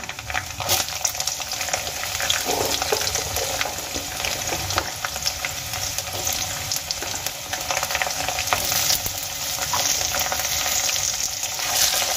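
Unpeeled potato pieces frying in a pan with lightly fried coconut for a vegetarian chana dal, a loud, dense, continuous sizzle with stirring crackles running steadily throughout.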